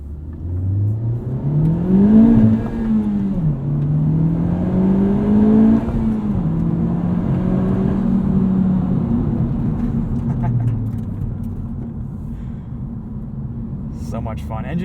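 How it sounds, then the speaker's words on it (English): A 2021 Honda Civic Type R Limited Edition turbocharged engine revs and surges through rising and falling pitch, loud and close, with a whooshing intake note and a voice talking underneath. "Engine just sounds like a big, boosty vacuum cleaner."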